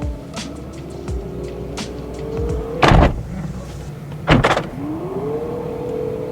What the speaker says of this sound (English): Closing doors.